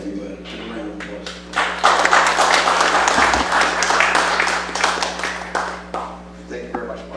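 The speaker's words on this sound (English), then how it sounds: "Give a round of applause" An audience applauding as a presenter is introduced before a talk on workspace design, clapping that swells after a second and stays full, with a voice heard over the start.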